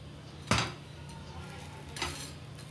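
Bread slices for an avocado sandwich being flipped and fried in a pan, with two sharp clanks of utensil on pan over a low background sizzle.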